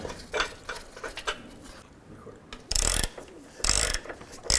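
A ratchet tightens bolts on a Jeep Wrangler front bumper bracket with bursts of rapid clicking up close and short pauses between strokes. A couple of louder clattering bursts come near the end, and there is no speech.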